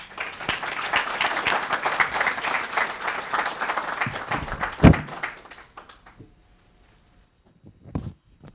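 Audience applause rises for Dean Goodman taking the stage at a Korean garden celebration, steady dense clapping for about five seconds with a single louder thump, then fading to near silence and a few scattered taps.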